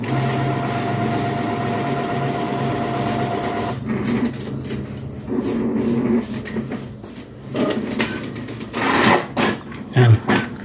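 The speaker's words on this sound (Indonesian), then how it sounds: "sudah terdengar tertarik kertasnya" A photo printer pulling in paper: mechanical whirring and rattling drones on steadily, then breaks into uneven clicks and thumps as the mechanism moves, close by.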